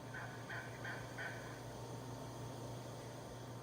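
A quick run of four raspy wild turkey yelps, like a hen answering a gobbling male in breeding season, comes early and then gives way to steady background hiss and a low hum.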